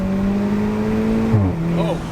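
An Audi S3 fitted with an AWE SwitchPath valved exhaust accelerates, heard from inside the car as a steady loud engine drone rising in pitch, with a brief shift partway through, under excited talk from the occupants.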